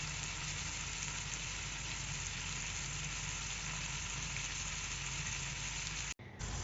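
Marinated chicken steak pieces fry in a pan with a steady, dense sizzle that holds evenly throughout, then cuts off briefly near the end.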